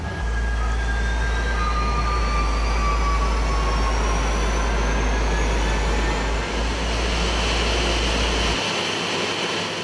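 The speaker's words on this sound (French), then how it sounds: "Donc démarrage des moteurs 2 et 1." Airliner engines start up during pushback. A rising turbine whine climbs over a heavy, steady low rumble that cuts out near the end.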